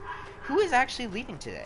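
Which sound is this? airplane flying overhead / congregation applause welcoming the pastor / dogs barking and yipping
dogs barking and yipping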